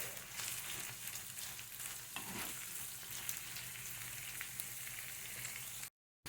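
Minced meat sizzling in a hot pan while being stirred, a steady close crackle with occasional scraping of the utensil, cutting off abruptly near the end.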